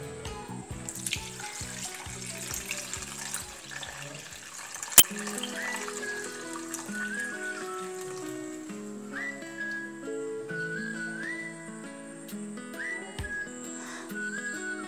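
Clear water being poured off settled matta rice water in a kitchen, with a running, splashing pour heard under melodic background music that carries throughout.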